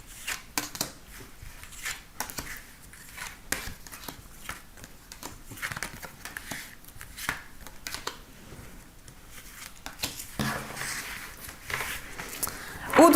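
Tarot cards shuffled and drawn by hand, a quick run of soft riffling and snapping card sounds going on steadily throughout, with a French-speaking voice talking over them.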